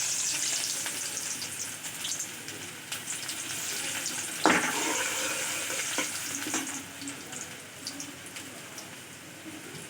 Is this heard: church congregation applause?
no